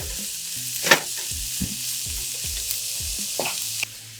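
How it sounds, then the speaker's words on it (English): Mushrooms cooking down in a pan for a quiche filling, a constant light sizzle close by, broken by several utensil scrapes and knocks against the pan. "and then I'll add the mushrooms. And then I'll just let it all cook down."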